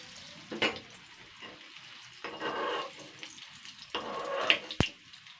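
Fish roe fritters fry in a small pan, giving quiet, intermittent bursts of sizzling with a few sharp clinks between them.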